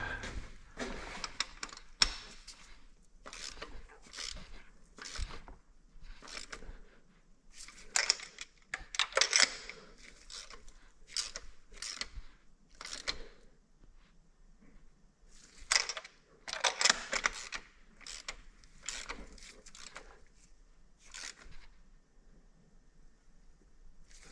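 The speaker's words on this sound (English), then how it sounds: "I will snug it up with a ratchet though. Not the impact." A hand ratchet snugs spark plugs on a Mitsubishi 3000GT DOHC V6, giving faint, close clicking bursts in irregular runs with pauses between them, no talk.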